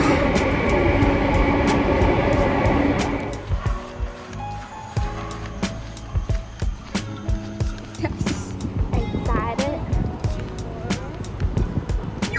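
A train pulls in at a station near Chestnut Nature Park, a loud rumbling approach that gives way to rhythmic clacking and thumps from the wagons while people talk nearby.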